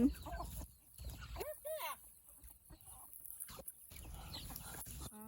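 A hen clucks in short bursts nearby, with other soft farmyard sounds and murmuring voices in between.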